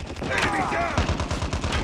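Gunfire in Call of Duty Mobile hits the player. Rapid bursts of shots crackle densely throughout, overlapping a voice that talks over the action.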